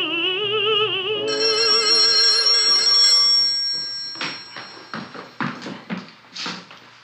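A telephone rings with a trilling, warbling electronic tone for about three seconds, loud and close, followed by a voice speaking in short phrases.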